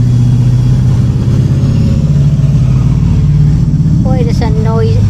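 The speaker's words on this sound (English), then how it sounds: "Boy, that's a noisy motorcycle. Why do they take their mufflers out?" A loud motorcycle with its muffler removed roars steadily nearby as it passes a garden, a low heavy engine drone throughout; a voice speaks briefly near the end.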